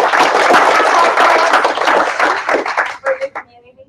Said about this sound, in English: please give a round of applause to all our panelists